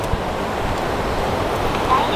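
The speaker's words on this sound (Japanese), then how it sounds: "あ、川の音か。" A mountain river in the Tanigawa valley rushes steadily nearby, a dense, unbroken wash of water noise mixed with some wind.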